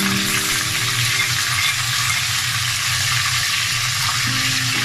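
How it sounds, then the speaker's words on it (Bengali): Onion, garlic and ginger paste hitting hot oil in a pan, a loud, steady, close sizzle of frying that holds unbroken throughout. "সবগুলো আমি তেলে দিয়ে দিচ্ছি"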